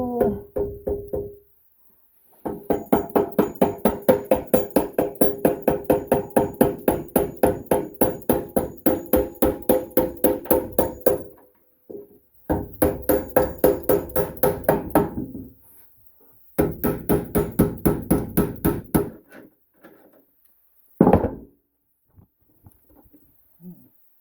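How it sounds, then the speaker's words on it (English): Rapid, steady metallic hammer blows on a Mustang II front suspension part ring out close by in long bursts, separated by short pauses, with a few scattered knocks near the end. "hammer here a little bit like so"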